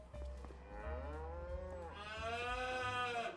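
Cows in the video game Farming Simulator 25 give long, loud moos one after another, close by, with low rumbling underneath and no talking.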